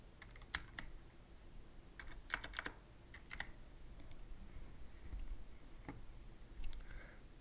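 Typing on a computer keyboard in quiet bursts of key clicks with pauses between, close and fairly soft.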